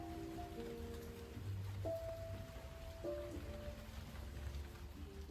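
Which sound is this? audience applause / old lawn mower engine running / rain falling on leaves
rain falling on leaves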